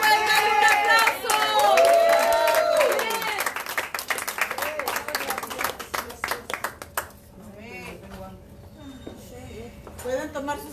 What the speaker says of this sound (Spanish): Cuando puedan, un aplauso.